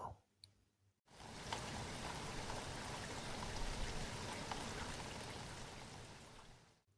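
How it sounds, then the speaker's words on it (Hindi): Steady rain falling outside a quiet room at night, a dense continuous patter with scattered drops and clicks that holds evenly for several seconds before fading, with a brief quiet lead-in. "आज बाहर कितनी बारिश हो रही है ना"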